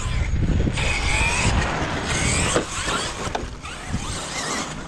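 A Hobao MTX RC truck on softened suspension and Proline Trencher tyres runs on old LiPo batteries, its electric motor whining and surging in bursts with scrabbling tyre and mechanism noise nearby.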